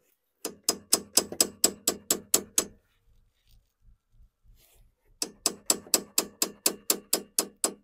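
Socket tapped with a hammer to seat a seal during a gas and oil pump leak repair on a Yamaha Phazer snowmobile, two runs of about ten even, crisp metallic knocks separated by a quiet pause.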